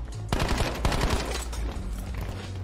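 A burst-fire gun in a shooter video game fires a rapid volley of sharp, loud shots in tight groups, followed by lingering reverberant rumble and quieter background game noise.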